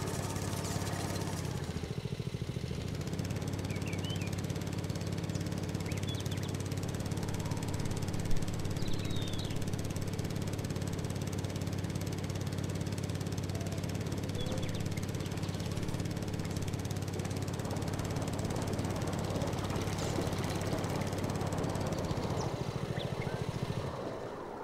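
Steady engine drone of a mowing tractor in Farming Simulator 19, a continuous low hum running loud and even throughout with no talking.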